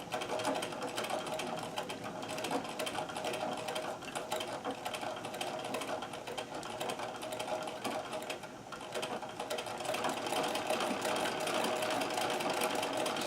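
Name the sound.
Singer 237 sewing machine zigzag stitching, with bobbin noise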